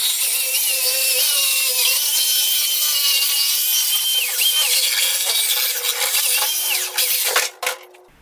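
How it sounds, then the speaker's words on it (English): A jigsaw cuts a hole in wood for a homemade photo booth, a loud, continuous close-up buzzing rasp with shifting pitch that runs steadily before sputtering and stopping abruptly near the end. "don't look at how much trouble I had with this jigsaw"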